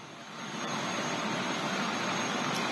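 A rescue helicopter arriving at its base carrying firefighters, a steady loud roaring turbine whine that swells in the first half second and then holds close and constant.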